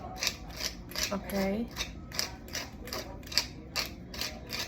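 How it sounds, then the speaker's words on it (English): Pepper grinder cranking pepper over a broccoli slaw in a home kitchen, a series of quick clicking ratchet turns in an even rhythm, close by, with a brief spoken word and faint background music. "And my pepper grinder's over here where the shrimp were. And some pepper."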